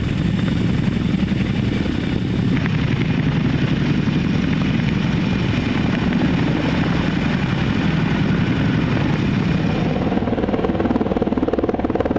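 A helicopter's steady, loud rotor and engine drone continues throughout, close by and unbroken, with a deep rumbling thrum.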